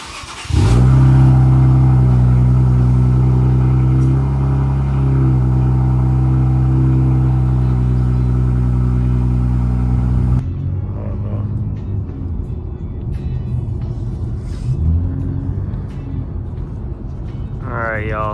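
Infiniti Q50 Red Sport AWD with a VR30 engine, fitted with down pipes, a Y-pipe and a muffler delete, revs with a loud, steady rumble, then drops to a rougher, lower idle with short blips of throttle.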